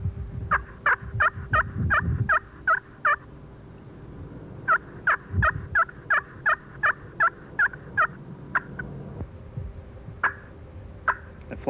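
A diaphragm mouth call imitates a wild turkey's soft tree call: two runs of clipped, evenly spaced yelping notes, close and clear, followed by a few scattered single notes.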